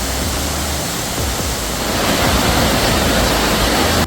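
Waterfall in Central Lombok, Indonesia, a loud, steady roar of heavy falling water that fills the whole clip without a break and stays close and constant.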